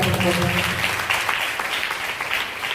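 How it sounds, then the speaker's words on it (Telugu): A church congregation claps together during a Sunday service, a steady burst of applause filling the room, with a voice faintly audible beneath it. "చప్పట్లు కొడదాం"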